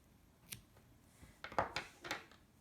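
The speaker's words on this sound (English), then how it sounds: "So you can now cut the loose ends" Scissors snipping loose yarn ends on Arraiolos tapestry stitch work, a few quiet close snips spread over a couple of seconds.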